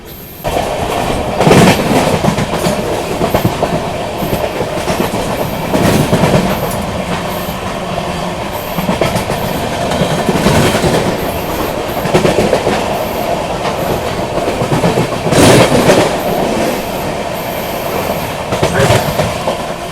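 Sampoorn Kranti Express rolling at speed while overtaking the Sanghamitra Express, with a steady loud rumble, rhythmic clickety-clack of wheels over rail joints and occasional louder bursts as the trains pass close.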